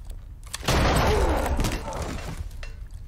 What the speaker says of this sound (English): Like the wrist flick gunshot, that was kind of sick.